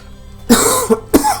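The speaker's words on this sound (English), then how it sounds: "Sorry, I'm coughing like mad today." Two or three sharp, close coughs in quick succession, loud and raspy, with no talking around them.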